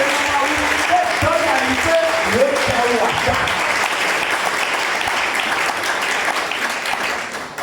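A church congregation claps and cheers for the Lord during a Sunday sermon, a dense, steady roar of applause that fills the whole stretch, with voices mixed in over the clapping.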